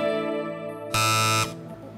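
A quiz show buzzer sounds one harsh half-second blast, loud and close, cutting across a sustained electronic tone that fades away afterward.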